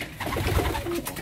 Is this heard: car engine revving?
no